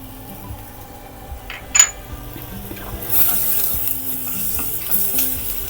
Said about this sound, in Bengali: এখন দিয়ে দিচ্ছি কাজু বাদাম।